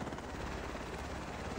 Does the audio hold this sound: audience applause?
no